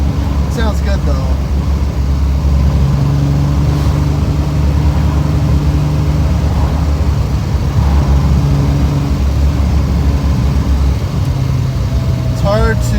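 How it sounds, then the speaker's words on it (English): A Triumph TR6 carbureted engine burbles steadily at a low, throaty idle throughout, with brief speech at the start and end. "It's hard to beat the burble of a carbureted car."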